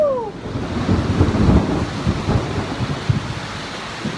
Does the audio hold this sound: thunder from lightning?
yes